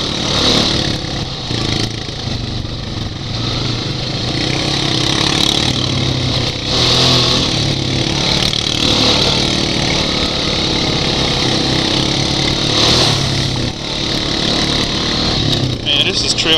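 A Polaris Rancher ATV on Maxxis Big Horn tires drones steadily while trail riding on the Hatfield-McCoy trails, a close, continuous engine hum with slight surges throughout.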